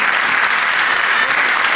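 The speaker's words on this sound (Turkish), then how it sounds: "Alkış alalım lütfen." An audience at a Turkish folk music concert claps in a dense, even burst that stays loud throughout and has no speech over it.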